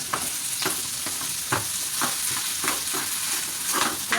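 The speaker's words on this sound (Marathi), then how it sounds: "आता सर्वात शेवटी आपण त्यात ॲड करणार आहोत बटाटा।" Potato with green chilli and spices sizzles in a pan while a utensil stirs it, a steady fry hiss punctuated by regular scraping strokes about every half second, close and without talk.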